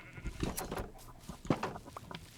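Blocky Minecraft sheep bleat in a short burst of two or three close, fairly loud calls, overlapping bright game effects, with no voices.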